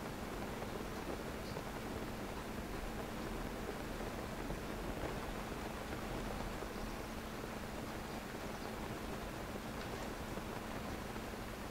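Steady, soft rainfall in the Zelda: Breath of the Wild game world, an even hiss of drops with no breaks or other sounds.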